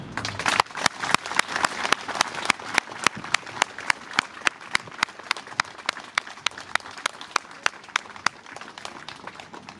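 Applause from a crowd at a 14 July ceremony in Chevigny-Saint-Sauveur, paying tribute to the police and uniformed services, with steady, sustained clapping that lasts throughout, overlaid by regular sharp clicks.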